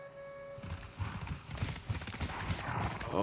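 Horse hooves clip-clop in Civilization VI, a short run of rhythmic hoofbeats beginning after a brief tone and continuing steadily over a soft ambient game backdrop.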